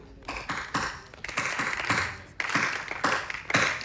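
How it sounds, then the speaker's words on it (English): Audience members clap together in unison, groups of sharp synchronized claps in short sets with brief gaps between them, fairly close and moderately loud. "Okay, we do 3 claps."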